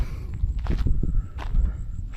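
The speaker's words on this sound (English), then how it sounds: "We've got a southerly wind blowing at the moment." A southerly wind rumbles and buffets low and steady at the Mary Kathleen uranium mine, with a few soft thuds and rustles mixed in.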